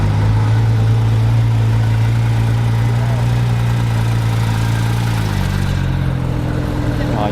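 A Lamborghini Huracan with a non-original rear wing and four exhaust outlets idles nearby with a deep, steady rumble that rises slightly toward the end, while people talk faintly around it.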